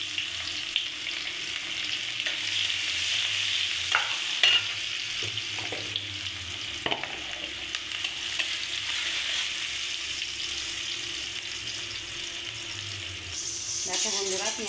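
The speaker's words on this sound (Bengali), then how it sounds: "পেঁয়াজটা আমার হালকা করে ভাজা হয়ে গেছে" Onions sizzle and fry steadily in a hot pan while potato curry is prepared, with occasional stirring scrapes and clinks and a voice talking faintly at times.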